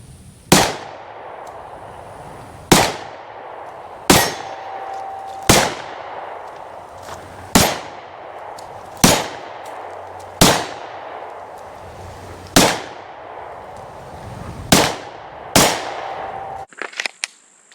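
Glock 48 pistol firing at steel targets during a scored shooting game, about ten sharp shots spaced roughly a second or two apart, each followed by a ringing metallic clang from the struck plate, loud and close with no talking.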